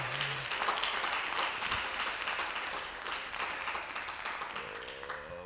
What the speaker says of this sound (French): On peut applaudir pour Jésus.